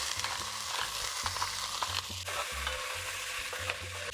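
Pork belly and onions fry in olive oil in a pan, a constant sizzle broken by repeated scraping stirs of a utensil against the pan, close and loud with no talk.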